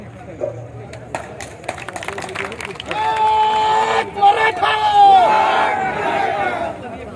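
A crowd at a Maratha reservation rally swells into loud shouting and cheering, with an overlapping babble of many voices near and far and a raised voice over the din.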